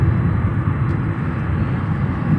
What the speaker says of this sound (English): Embraer 135 landing on 10 Center.